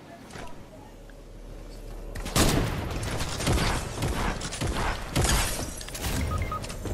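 Video game gunfire comes in rapid bursts of loud shots and sharp cracks, dense and overlapping after a quieter opening, with a faint voice underneath.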